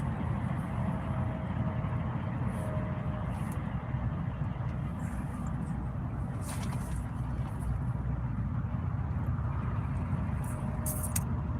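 Steady vehicle traffic rumbles at a Love's truck stop in Little Rock, Arkansas, a constant low engine drone with occasional brief hisses like air brakes, and no voices.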